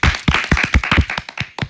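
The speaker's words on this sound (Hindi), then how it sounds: "एक बार फिर से तालियां।" Brief applause at a children's entertainment programme: a burst of about a dozen sharp, close claps in quick irregular rhythm, loud and alone, tapering off after under two seconds.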